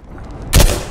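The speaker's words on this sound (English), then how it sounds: "Whoa, gunshots! Gunshots!" A single loud, sharp gunshot in the video game Dread Hunger bursts out after a quiet moment, then decays quickly.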